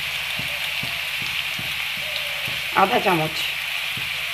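Chowmein noodles with green chillies and salt fry in a pan with a constant close sizzle and light stirring knocks; a voice speaks briefly partway through.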